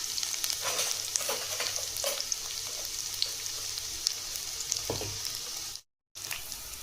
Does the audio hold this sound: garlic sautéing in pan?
yes